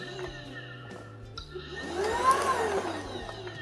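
A Xiaomi cordless vacuum cleaner runs with a replacement brush head fitted, giving a steady motor whine that swells louder partway through and continues alone.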